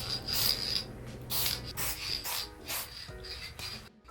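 A brush strokes gloss varnish across an oil painting, giving quiet repeated swishing rubs in an uneven rhythm, close and soft with no talking.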